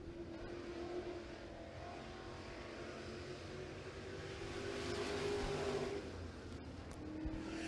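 Classic race car starting its single qualifying lap at Tazewell Speedway: the engine drones and rises as the car comes out of turn four, moderately distant, swelling louder midway before easing off.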